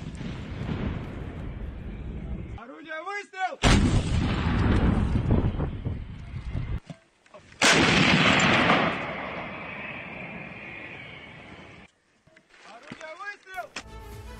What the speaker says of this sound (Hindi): MSTA होविट्सर से यूक्रेन पर इस बड़े हमले को अंजाम दिया गया।